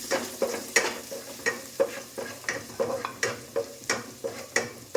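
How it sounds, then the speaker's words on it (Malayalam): Ginger and garlic are sautéed with mustard seeds in a pan, a close, soft sizzle cut by regular scraping strokes of a spoon, repeating at an even rhythm about twice per second. "കുറച്ച് ഇഞ്ചി, വെളുത്തുള്ളി കൂടെ ഇട്ട് നല്ല രീതിയിൽ വഴറ്റി കൊടുക്കണം."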